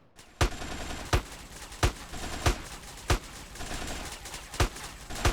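Gunshots in GTA ring out as eight sharp, evenly spaced single cracks over a steady low game background, loud and close, with no talking.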